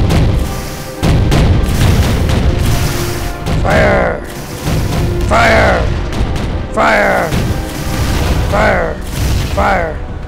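Ship guns fire in the naval warfare game Navy Field 2: heavy booms land every second or two over a constant rumbling battle roar, with rising and falling tonal sounds between the shots.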